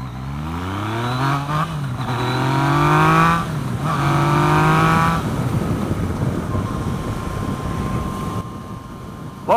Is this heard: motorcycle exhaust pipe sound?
yes